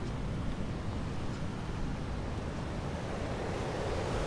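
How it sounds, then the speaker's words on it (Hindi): Big monsoon sea waves crash onto a Goa beach, washing up against a wall, in a continuous loud roar of surf with wind buffeting the microphone throughout. "इतनी बड़ी लहरें आ रही।"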